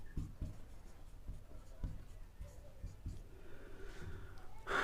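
A pen scratches out a definition by hand on paper in a quiet room, with short, faint strokes in an irregular rhythm and a soft rustle near the end.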